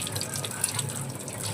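Water streams steadily from a tap over an ink-marked hand, a close, continuous splashing rush with no pauses.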